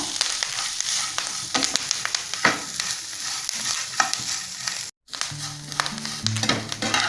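Curry leaves sizzle and crackle in hot oil in a pan while being cooked for thuvaiyal, with steady frying noise, repeated stirring scrapes and a brief gap of silence partway through.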